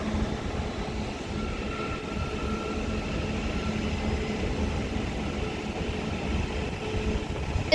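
A Northern Class 331 electric multiple unit, 331 111, rumbles at Liverpool Lime Street with steady low wheel and motor noise and a faint tonal hum, close and continuous, no speech.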